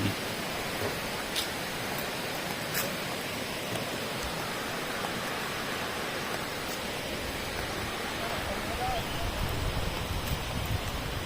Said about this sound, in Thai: เป็นลำธาร